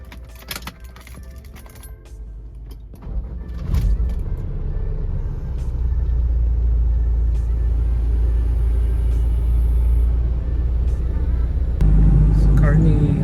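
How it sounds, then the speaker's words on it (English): A Mitsubishi Pajero V46 drives on a road through Kuching near construction, with a low, steady engine and road rumble building and holding throughout, heard from inside the cabin, with a few light rattles early on. "So currently driving in Kuching."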